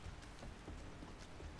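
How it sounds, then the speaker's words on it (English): Steady rain in the survival game 7 Days to Die, a dense, even patter of drops hissing continuously across the whole stretch with no voices over it. "Freaking ass raining on us."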